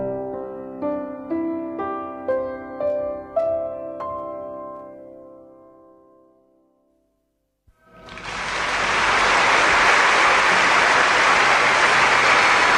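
A radio studio audience breaks into loud, sustained applause after a live poem recital by Peppino Di Bernardo, following a fading sung melody and a brief silence.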